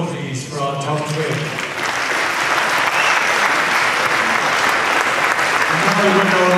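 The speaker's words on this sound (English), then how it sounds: "A round of applause, please, for our top three." Audience at the NABBA Universe 2017 juniors bodybuilding awards applauds the top three placings, steady loud clapping swelling and sustained throughout, with an announcer's voice briefly over it at the start and again near the end.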